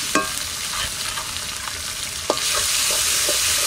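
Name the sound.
frying onion, garlic paste and chilli in oil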